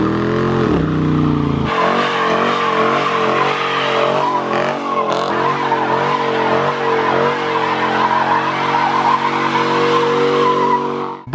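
Dodge Challenger T/A driven hard on a race track, its V8 engine revving loudly with wavering pitch as the tires skid and squeal continuously.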